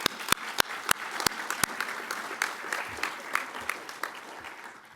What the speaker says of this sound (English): So I'm going to ask for a round of applause for Eden